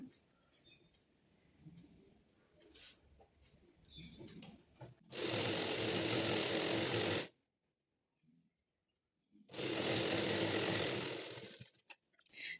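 A sewing machine stitches the joint of patiala pants in two sustained, loud bursts of rapid whirring, separated by a quiet pause and preceded by soft handling and fabric sounds.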